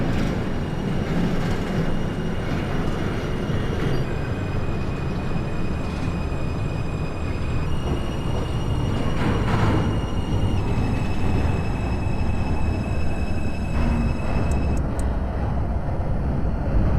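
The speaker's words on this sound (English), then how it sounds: "This is a Manhattan-bound 5 local train." A New York subway 5 local train rumbles steadily through the OpenBVE train simulator. The track noise and motor hum are loud and continuous, with a few brief tones and clicks on top.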